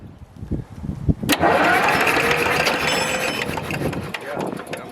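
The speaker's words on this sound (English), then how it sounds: "Will is going to be watching these as I'm cranking the engine over to see if we're getting fuel" A vintage Caterpillar D7 bulldozer diesel, unstarted for about ten years, cranks over loudly after a short burst of clanks, then churns steadily and roughly under a voice nearby.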